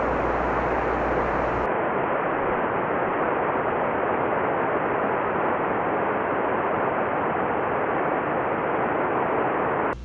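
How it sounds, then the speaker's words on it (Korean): Victoria Falls, the Zambezi River waterfall plunging into its gorge between Zambia and Zimbabwe, sends up a steady, dense broadband roar. It runs unbroken and loud for the whole stretch with no voices. "바로 빅토리아 폭포죠."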